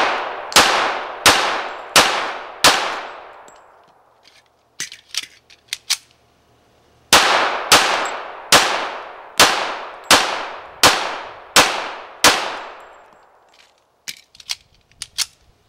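Sharp, loud pistol shots from a Colt Combat Unit, fired in two strings of about five and six evenly spaced rounds each, separated by a pause with faint clicks and handling clatter.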